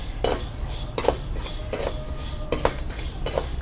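Fenugreek seeds roasting dry in a pan for sambar powder, stirred with a metal spoon: about five sharp scraping clinks at a steady pace over a faint sizzle.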